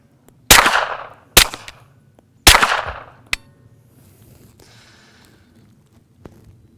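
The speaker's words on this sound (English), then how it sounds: "This suppressor is doing a phenomenal job of dampening the sound though, especially compared to a supersonic without any kind of muzzle device or suppressor" Several suppressed gunshots from a Gemtech Lunar 9 suppressor, three sharp reports spaced about a second apart followed by a fainter fourth, each with a brief decaying tail, then quiet with faint handling noise.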